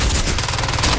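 Rapid gunfire in the video game Crysis 2, a loud, dense burst of overlapping shots filling the whole short moment.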